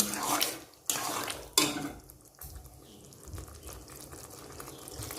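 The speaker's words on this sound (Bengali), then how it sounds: "এর জন্য একটু জল দিয়ে দিলাম।" Water poured into a cooking pan of chicken gives a close, splashy rush that is loudest at the start and in two quick surges before it trails off into softer bubbling and clatter.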